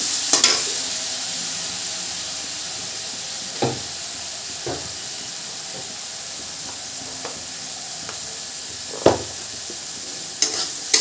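Spice paste being stir-fried in a pan, a continuous close sizzle and hiss with scattered clacks from the spoon every couple of seconds.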